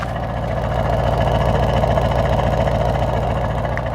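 The deep, rumbling V8 engine of a 2024 Mercedes-AMG S63 sedan idles steadily, a loud continuous throb with a rough, lumpy pulse and no voices.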